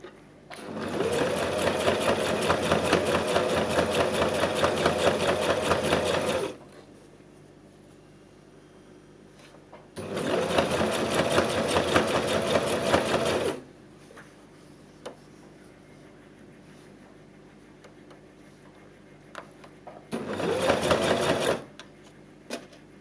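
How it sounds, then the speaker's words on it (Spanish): Long runs of steady sewing machine stitching on fabric for a zippered side pocket, three bursts separated by quiet pauses, close and clear with no talking. "Y cosemos hasta la línea que habíamos marcado con jabón"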